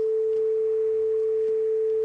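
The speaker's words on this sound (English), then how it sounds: "I'll show you what a Theremin sounds like" A synthesized theremin tone made in Reaper sounds as a single pure sine note, held steady and clean for about two seconds, with no talking.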